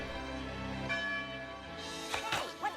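A bell ringing in a cartoon, sustained metallic tolling with rich ringing overtones, loud and continuous, with brief voices breaking in near the end.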